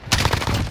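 Rapid automatic gunfire in a flag-capture multiplayer shooter with an M4 rifle, a quick close burst of several sharp shots in tight succession.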